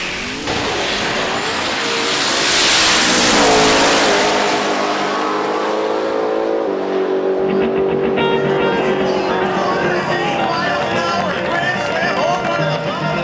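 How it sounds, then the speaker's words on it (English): A drag racing car, either a 1966 Chevy Nova or a 1957 Chevy, roars down the drag strip at full throttle with a loud, harsh engine note that surges and then carries on as a steady high-revving drone. "It was a battle to the very, very end between Larry Larson in that 66 Nova and Jeff Lutz in his 57 Chevy."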